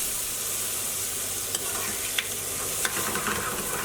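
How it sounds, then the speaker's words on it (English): Red capsicum pieces, about ten one-inch squares, stirred in hot oil for a British Indian restaurant-style chicken naga bhuna curry, giving a steady loud sizzle with a few sharp scrapes and clacks of the stirring utensil. "Stirring these around to coat them all in the oil."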